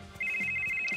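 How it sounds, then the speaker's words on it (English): A telephone ringtone trills steadily at close range, starting a moment in and sustaining as one continuous electronic ring over faint background noise. "Phone rings a couple times."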